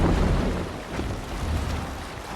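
Open-sea rowing in Assassin's Creed Valhalla: a steady broadband wash of water and wind around the boat, fairly loud and continuous with slight swells, no voices.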